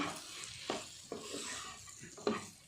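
A spoon stirs a potato and green pea curry in a hot pan with steady sizzling and several distinct scraping strokes against the pan, close and alone.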